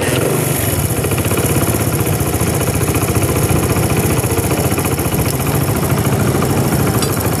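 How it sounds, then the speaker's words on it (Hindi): A Honda CD70 motorcycle engine idles just after starting, sounding as a steady, even putter that stays close and loud throughout. "तो फाइनली भाई हमारी बाइक जो है स्टार्ट हो चुकी है। इंजन की साउंड बिल्कुल बेहतरीन इसकी बन गई है।"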